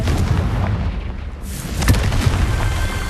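A Confringo blasting spell explodes in the Hogwarts Legacy game, a heavy booming burst with a deep rumble and a sharp crack about midway, loud and close.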